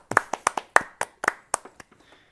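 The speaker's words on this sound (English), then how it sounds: "Can we at least give a round of applause for Brett real quick?" A small group gives a short round of applause, about a dozen sharp close claps in a quick uneven burst that tapers off within two seconds, no talk over it.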